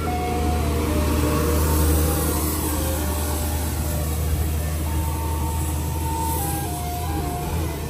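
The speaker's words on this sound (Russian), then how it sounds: "а это поливальная машина." A street watering truck passes along a riverside embankment in Harbin, China, as a steady loud engine drone and water rush fill the scene with faint voices.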